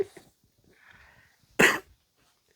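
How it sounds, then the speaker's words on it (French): A single sharp cough, loud and close, after a stretch of quiet with faint rustling. "je fais que de tousser"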